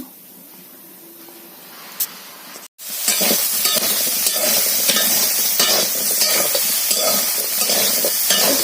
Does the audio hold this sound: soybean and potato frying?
yes